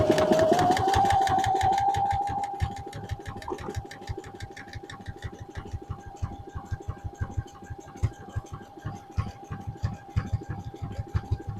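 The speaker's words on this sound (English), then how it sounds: "then I'm going to sew with my stretch stitch across" A sewing machine runs a stretch stitch across leggings fabric, its needle hammering in a fast, steady rhythm close by, louder at the start, then settling into an even run of sharp stitching pulses with no voices.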